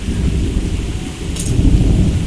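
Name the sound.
thunder rumbling in rainstorm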